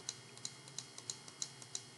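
Computer mouse clicks on a desk while measuring points in CT viewer software, a steady series of crisp, close clicks at a regular rhythm, with no voices.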